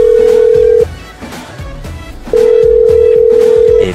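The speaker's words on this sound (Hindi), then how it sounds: "अरे कैसे ऐसा फोन बज रहा है" A telephone rings loudly in two long, steady electronic tones separated by a short pause, with background noise in between.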